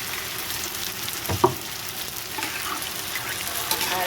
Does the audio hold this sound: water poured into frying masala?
yes